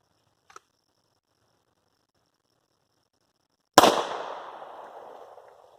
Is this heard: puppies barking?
no